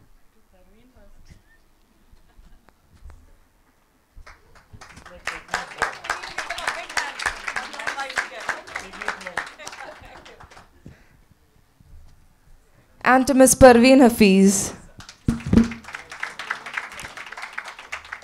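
An audience claps for the moderators at a women entrepreneurs event, with a sustained round of applause and a second louder burst later, while a host speaks at the start.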